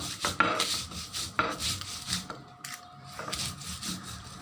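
Roasted cumin, salt and chili are ground on a flat grinding stone, giving repeated scraping, rubbing strokes with soft knocks, close and fairly quiet.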